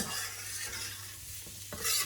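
Garlic and chillies fry in a pan with a steady close-up sizzle, a spoon stirring and tapping against the metal a few times, and no voices.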